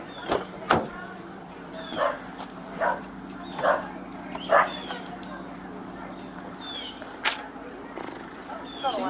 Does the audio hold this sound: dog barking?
yes